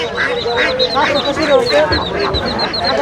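Ducks quack repeatedly at a busy rural village market where live ducks, ducklings, geese and chickens are sold. Their nasal calls come in quick, overlapping bursts close by, over a murmur of crowd noise.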